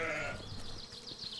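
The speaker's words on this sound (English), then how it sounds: "Let's get close to this sheep and give it a try." A sheep in the video game Force of Nature gives a short bleat, brief and fairly close.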